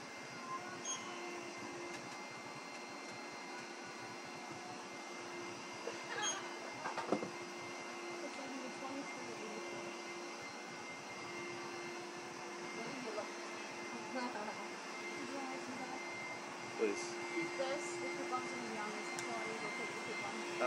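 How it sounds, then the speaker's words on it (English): A vacuum cleaner hums steadily in the background, a faint constant whir with a few quiet clicks and shuffles, voices faintly present at times. "The vacuum is always in the background."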